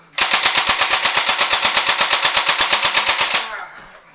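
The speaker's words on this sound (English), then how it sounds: "This is a single shot. And I do this, and I go fully automatic." An AK-47 cap gun fires fully automatic, a rapid, evenly spaced burst of about two dozen sharp cracks lasting a few seconds, close and loud, then stopping abruptly with a short fading tail.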